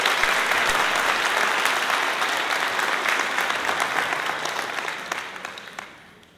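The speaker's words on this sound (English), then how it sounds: "I applaud the staff who are all here with us today and sprinkled about the theater." Sustained applause fills a theater at a white coat ceremony for a medical school class, a dense steady clapping from a large audience that gradually fades toward the end.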